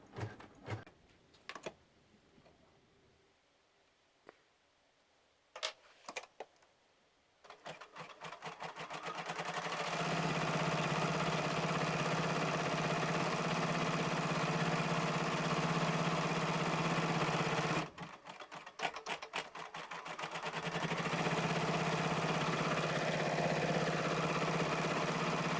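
An embroidery machine stitches a zipper tack-down on a hooped project, starting with a few short clicks before settling into a loud, steady, rapid mechanical whir that pauses briefly midway and then resumes.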